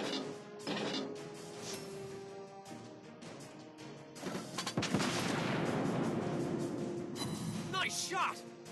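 Naval gunfire and shell impacts in World of Warships Blitz, with the Hindenburg cruiser firing: loud booming blasts and crashing explosions in quick bursts, layered over game ambience and brief synthetic voice callouts.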